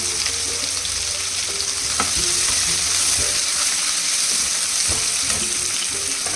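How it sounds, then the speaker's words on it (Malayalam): Onions sautéing in hot oil for a chicken biryani, a steady loud sizzle and crackle running the whole time with a few stirring clinks and scrapes close by. "ഇനി ഈ എണ്ണയിൽ സവാള വാട്ടാനിടുക"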